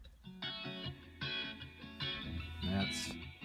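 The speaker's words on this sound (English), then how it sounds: "This is the guitar," A recorded guitar track plays back at low volume, a run of strummed chords in a steady rhythm with a bright, full texture and no talking over it.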